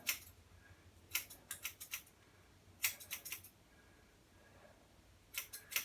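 Scissors snipping hair during a home haircut, quiet close-up bursts of several quick crisp snips separated by short pauses, no talking.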